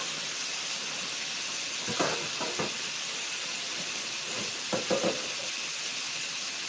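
Steak patties sizzle on a hot cooking surface, giving off steam in a steady, bright hiss that runs throughout, with a few brief clicks and pops of handling near the start and end.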